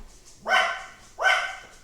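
A dog in the Minecraft video game barks twice, two short sharp woofs about three quarters of a second apart, close and clear with nothing else around.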